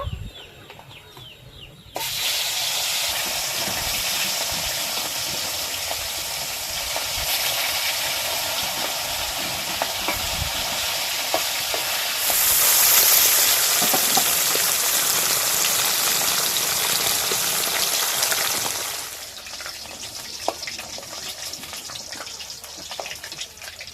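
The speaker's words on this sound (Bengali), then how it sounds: "একই রকম ভাবে এই মাছগুলোও ভেজে নেব।" River fish fry in oil with a strong, rain-like sizzle that kicks in after a quiet start, holds steady and grows briefly louder, then drops back to a softer hiss near the end.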